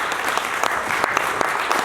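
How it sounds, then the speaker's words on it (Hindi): Brief burst of audience applause at a training and development launch event, continuous clapping from a seated crowd for about two seconds with no talk. "तालियां बजा सकते हैं।"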